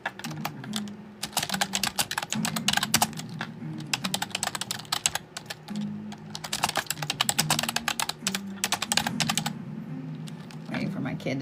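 Fast computer keyboard typing, apparently with long fingernails, clatters close up in quick runs and short pauses, with a low murmur of a voice faintly underneath.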